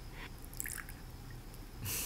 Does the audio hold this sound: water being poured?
yes